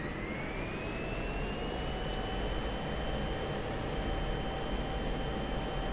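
Steady jet engine roar of an F-16 in DCS World spooling up, a broadband rush with a rising whine that climbs then holds, loud and continuous with no talk.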